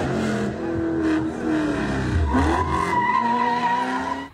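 Car engine revving hard with a rising squeal of skidding tires during an illegal street race amid a crowd, loud and close, lasting a few seconds.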